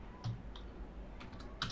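A few quick, soft keystrokes tap on a computer keyboard, close by in a quiet room.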